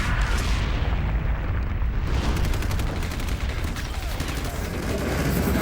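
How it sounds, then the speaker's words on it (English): Heavy cannon fire from an Abrams tank in a video game demo, a dense rumbling barrage of booms and gunfire that fills the whole stretch with continuous low-end roar, a voice faintly present underneath. "Those sound big. It's a tank. And Abrams."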